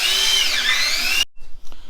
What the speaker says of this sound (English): rivet the rotor to the hub, so you got to drill it out